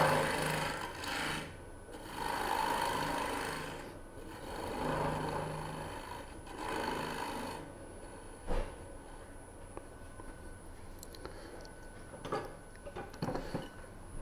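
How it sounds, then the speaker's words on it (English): A spindle gouge clears wood from a turning on a lathe, used in place of a small bowl gouge: a steady rasping scrape in repeated passes, loud then fading, with quieter ticks and taps later. "This is actually a spindle gouge. I don't have a small bowl gouge, so I just use this."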